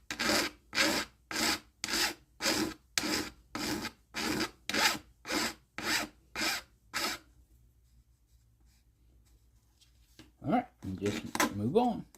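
Filing a wooden part for a plank dulcimer with a large hand file: about eleven steady, evenly spaced rasping strokes, close and loud, then a quiet pause before a few brief knocks and a short burst of speech.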